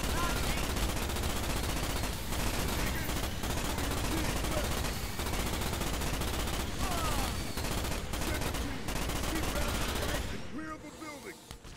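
Sustained machine-gun fire from the shooter game Starship Troopers rattles in dense, nonstop bursts for about ten seconds, loud and close, before cutting off into quieter ambience.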